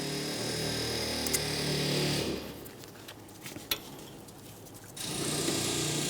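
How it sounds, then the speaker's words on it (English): A power tool whirs loudly on the final brake caliper mounting bolt of a Toyota Sienna, running steadily, pausing for about two and a half seconds with faint clicks, then spinning up again. "we'll take hold of the caliper and fully remove our final mounting bolt"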